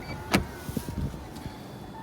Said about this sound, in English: Seat moving automatically